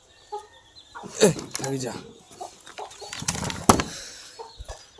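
Chickens clucking outdoors around a rural home, a few short, fairly close calls mixed in with someone talking over them.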